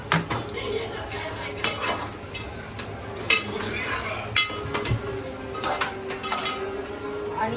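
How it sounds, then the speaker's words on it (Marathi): Cashews and almonds tipped into a pan of gajar halwa and stirred, a spoon scraping and clinking against the metal in repeated sharp knocks over a steady low kitchen background, with voices faintly present. "याच्यामध्ये आपण हे काजू टाकणार आहोत सगळे. हे बदाम टाकणार आहे."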